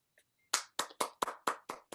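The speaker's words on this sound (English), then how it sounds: "Round of applause." A small group claps in a round of applause: about seven sharp, distinct claps in a quick, slightly uneven rhythm, heard close with no talking.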